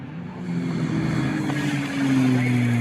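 Mazda MX-5 club race cars, one open top and one closed top, at Snetterton circuit during a BRSCC Clubsport Trophy race, their engines droning steadily and rising in pitch as they pass, under continuous commentary.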